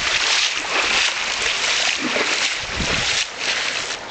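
A vehicle pushes through a flooded river roughly eight to ten meters wide, water rushing and splashing loudly and continuously around it, with no clear speech.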